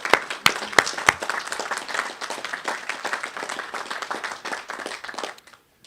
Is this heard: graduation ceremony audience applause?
yes